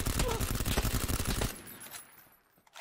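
Rapid bursts of automatic gunfire in the video game PUBG during a solo match, loud and dense for about a second and a half, then cutting off sharply into quiet background.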